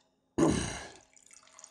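Wine poured into a glass: a brief, close splash that trails off into a soft trickle, with no talking.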